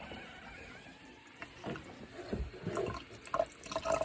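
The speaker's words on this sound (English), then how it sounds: "you'll see a bit more water is going to come out the hose now." Water trickling and gurgling out of a boiler drain hose during a repair on a boiler that loses pressure, faint and uneven, growing a little louder with splashy bursts near the end.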